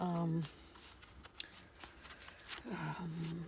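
Cards and envelopes from a secondhand haul are shuffled and handled up close, crisp papery riffling and rustling between stretches of talk at the start and end.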